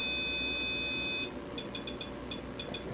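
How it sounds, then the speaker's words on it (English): An electronic device gives a steady, shrill tone that cuts off, then a quick series of short, faint beeps follows over background hiss. "Do a short beep for yes and a long no"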